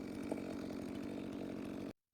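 A chainsaw milling a log in a Granberg Alaskan mill runs at a steady, buzzing drone, fairly faint and distant, then cuts off abruptly near the end.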